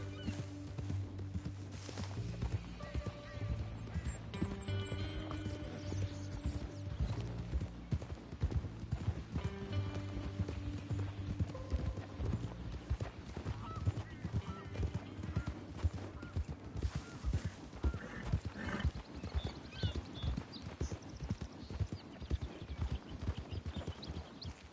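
Horse hooves clip-clop in a steady walking rhythm in the Western video game Red Dead Redemption 2, close and continuous, with occasional tack rattles and a possible short whinny; a voice speaks now and then over the hoofbeats.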